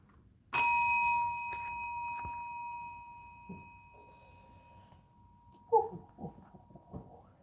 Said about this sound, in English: Ring the bell. Oh yeah, this bell.